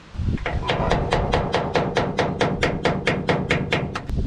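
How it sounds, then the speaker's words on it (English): Steady, evenly spaced hammer blows, about fifteen in a row, pound a clip on a brake line through its bracket during a front brake job; each strike is sharp and close, ringing metallically with no talking. "Well, ended up pounding it through."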